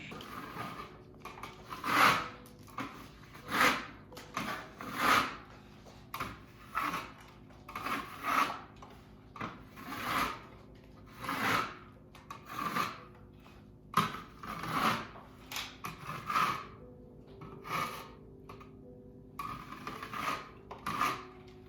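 Scraping a textured ceiling repair to knock down the texture tips so it blends in: repeated rough scrapes in an irregular rhythm, close and moderately quiet, with no talk.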